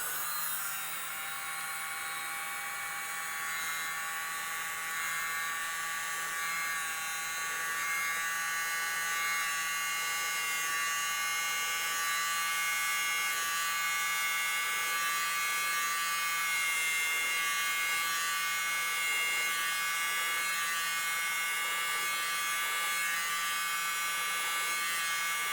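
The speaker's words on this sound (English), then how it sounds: "Alright, air blower, mini blower." A small handheld mini air blower runs steadily over a fresh acrylic paint pour, giving a continuous electric whine and hum that holds level from start to finish, with no talking.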